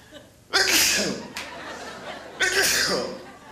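Two loud sneezes, one near the start and another about two seconds later, each a sharp burst with a breathy tail, close to the listener.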